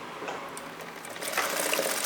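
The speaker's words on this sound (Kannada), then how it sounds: "ಪೈಪಿಂಗ್ನ ಸ್ಟಿಚ್ ಮಾಡಬೇಕು." A sewing machine runs continuously while stitching double piping onto a fabric layer, a steady close-up mechanical whir with fine rapid needle chatter that grows slightly louder toward the end, with no talking.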